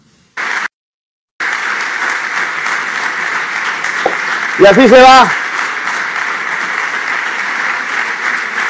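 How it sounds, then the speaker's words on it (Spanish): Applause from teammates fills a small, crowded conference room at a farewell press conference for a departing football star at FC Barcelona, steady clapping sustained throughout, with a brief spoken phrase early and a short burst of louder voices midway. "Con el aplauso de sus compañeros"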